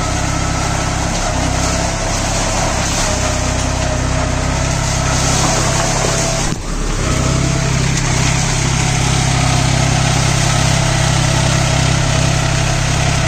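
A New Holland 4710 4WD tractor fitted with cage wheels runs loud and steady close by in a banana field, its engine droning continuously with one brief dip partway through.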